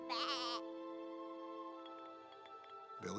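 Goat bleating loudly and close in a wavering, quavering call, followed by a long stretch of quieter sustained tonal background, with a second bleat starting right at the end.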